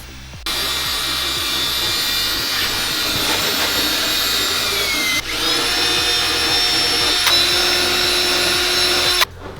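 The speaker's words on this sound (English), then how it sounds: "I'm just using just a wire brush." A power tool drives a wire brush against a rusty van floor, stripping rust from the metal. The whine is loud and steady for about nine seconds, pitch dipping once midway as the brush loads up, then cutting off abruptly.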